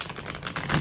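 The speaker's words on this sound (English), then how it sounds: "shuffling the cards" Tarot cards being shuffled, a quick run of light, crisp papery clicks and riffles in an uneven rhythm, close by and moderately loud, with no talking.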